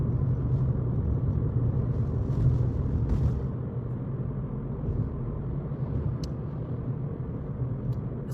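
A car driving along, heard from inside the cabin as a steady low engine and road rumble, even and continuous, with a few faint clicks and no talking.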